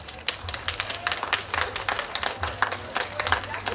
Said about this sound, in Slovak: Takže veľký potlesk víťazke.